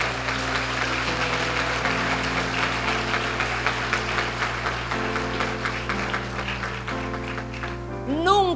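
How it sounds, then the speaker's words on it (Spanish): A church congregation applauds in a steady, sustained wash of clapping over held keyboard chords. "Dale un fuerte aplauso al Señor."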